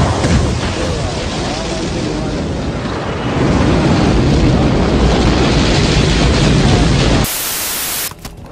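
A rocket launch ignition in the Halo 5 video game: a loud, steady roar of broadband rumble that holds for several seconds, then cuts abruptly to a different harsh blast near the end.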